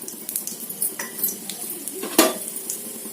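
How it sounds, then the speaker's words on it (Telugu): Mustard seeds and cumin drop into hot oil, crackling and sizzling close up alongside clinks of a pan and spoon, with one sharp knock near the end. "ఆవాలు జీలకర్ర వేసేసుకుందాం."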